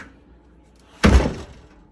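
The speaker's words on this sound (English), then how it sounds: "So when I slam the door, it either comes on or off." An old trailer's door slammed shut once, a single loud hollow thunk in the middle of an otherwise quiet moment.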